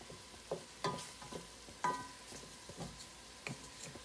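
Chili mac with bits of onion cooks in a pan, a soft sizzle running underneath occasional stirring and scraping clicks, fairly quiet and close.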